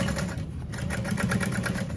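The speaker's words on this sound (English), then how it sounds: "now I'm sewing it all together at like 1/4 of an inch" A sewing machine stitches a sling seam at a quarter-inch allowance, giving a close, steady rapid mechanical whirring with an even pulsing rhythm throughout.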